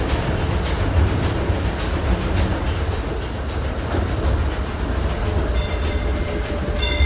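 Riding aboard the Disneyland Railroad excursion train, a steady loud rumble of rolling wheels and rail clatter fills the whole stretch, with no voices.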